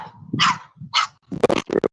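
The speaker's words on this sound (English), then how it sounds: "We're being greeted by a dog." A dog greeting visitors at night in Orgiva, Spain, barks alone in a few close, sharp bursts, first two separate woofs and then a quicker cluster of short yaps.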